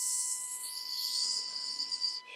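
A person's voice imitates an egg sizzling as it fries in a frying pan, a steady hissing crackle held for a couple of seconds, close and moderately loud, then cutting off abruptly.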